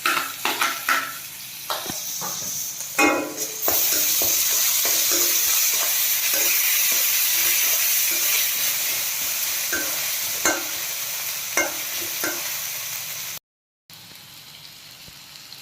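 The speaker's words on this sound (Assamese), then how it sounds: "সেই পিঁয়াজখিনি অলপ ৰঙচুৱা ব্ৰাউন কালাৰ হোৱালৈকে ভাজি থাকিব লাগিব।" Onions and chillies sizzling steadily in a hot pan for an Assamese fish curry, with scattered stirring clinks and scrapes as ginger-garlic paste goes in; close and continuous, broken by one brief dropout near the end.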